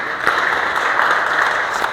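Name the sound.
audience applause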